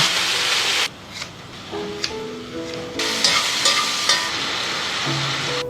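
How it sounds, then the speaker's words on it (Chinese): Beef short ribs, marinated in scallion sauce, pan-fry in a thin layer of oil over low heat, giving a steady, close crackling sizzle throughout with soft tonal sounds in the background. "锅中薄油，全成小火，煎至底部微焦后翻面。"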